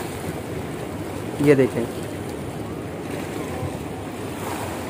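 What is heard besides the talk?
water rushing out below Qadirabad Barrage, Chenab River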